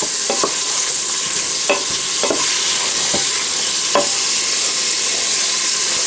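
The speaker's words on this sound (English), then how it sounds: "See how that's just cooking down in your rendering there." Butter beans with ham cooking down in rendered fat in a pot, a constant close sizzle broken by several sharp spoon scrapes and stirs.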